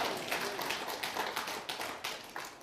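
Steady rhythmic hand clapping at a church worship service, a group clapping together in an even beat, moderately distant and fairly soft.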